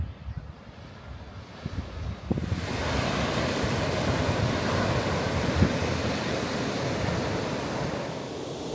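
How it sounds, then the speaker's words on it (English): Steady roar of surf and wind on a deserted beach near Rio de Janeiro, Brazil, loud and continuous, swelling up after a quieter start and filling the whole stretch with dense noise. "I hope you can hear me above the noise of the sea."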